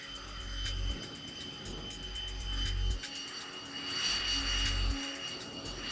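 Engine of the X-47B unmanned combat drone aircraft produces a steady jet whine with rhythmic low rumbling pulses roughly every two seconds, moderately distant and unaccompanied by talk.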